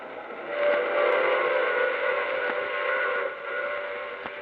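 Steam train sound effect in an old-time radio mystery drama, a sustained wheezing whistle-like hiss with rumbling rail noise running steadily throughout, fairly loud and without speech.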